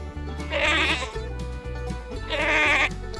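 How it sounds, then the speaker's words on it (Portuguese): Goats on a farm give two loud, wavering bleats, one near the start and one near the end, over a steady low background. "As cabras se comunicam por balidos."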